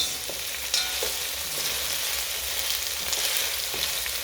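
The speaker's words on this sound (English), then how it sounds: "Now this is just to stir fry the onions and garlic plus spring onions." Onions, garlic and spring onions stir-frying on low heat, with a steady close hiss of oil broken by occasional light spatula taps and scrapes against the pan, no voices.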